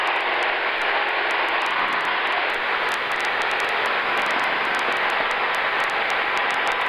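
Steady, loud drone of a Sonex light aircraft's engine and airflow heard from inside the cockpit during its first flight, a continuous broadband roar with no breaks and no talking.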